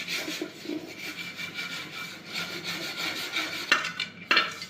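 A blackened iron kadhai is scrubbed clean by hand with washing soda and lemon, producing rhythmic, gritty scraping strokes at close range, steady throughout and with two sharper scrubs near the end.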